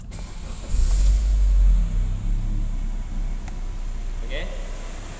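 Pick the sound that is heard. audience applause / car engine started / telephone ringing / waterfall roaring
car engine started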